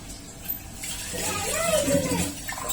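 Drinking water being poured in a home kitchen makes a soft, close splashing and gurgling that runs under nearby voices.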